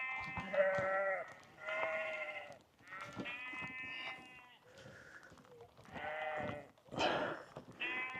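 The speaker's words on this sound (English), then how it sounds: "the sheep" Several sheep bleat in a field on Ebrington Hill in Warwickshire, the highest point in the county. The calls come close and loud in repeated overlapping bursts with short quiet gaps between them.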